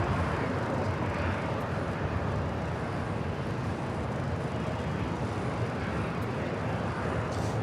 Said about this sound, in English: We have another United Dreamliner now heading down to 25 right.